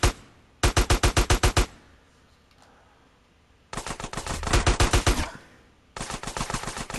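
Video-game automatic gunfire in GTA San Andreas, loud rapid bursts of evenly spaced shots separated by short quiet gaps, three bursts in all.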